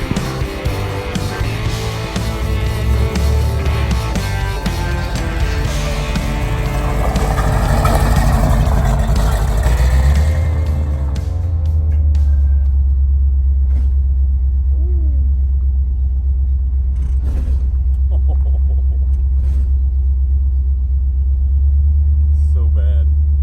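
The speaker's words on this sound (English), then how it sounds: "It's a terrible, terrible metal clanging noise as we're driving down the road every time we hit a bump." A truck with engine issues drives down a road, its low engine rumble steady and loud throughout, with a few sharp metallic clanks as it hits bumps.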